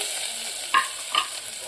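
Onions frying in ginger-garlic paste for mutton, cooked over a wood-fired stove, make a steady loud sizzle broken by two short sharp clinks of a spoon being stirred through the pan.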